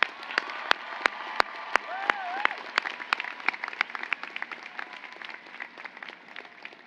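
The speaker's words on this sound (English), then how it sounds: "let's also celebrate with your entire family and your friends who are here with us today, cheering you on with a round of applause" A graduation ceremony audience applauds, with dense clapping and a few sharp, louder individual claps near the start, thinning gradually and fading over about seven seconds, with a faint voice over it.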